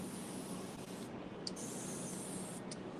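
Paint sprays onto a piece of furniture during a makeover in a continuous, even hiss that holds steady and close with no talk.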